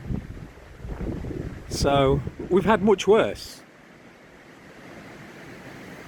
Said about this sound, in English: So as you can hear, it's windy and the waves are picking up a bit more than usual.